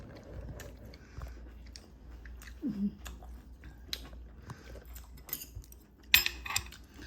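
Close, soft chewing of Korean beef bulgogi with spring cabbage, a quiet irregular mastication running throughout, with a brief clink of cutlery or a dish near the end and no talk.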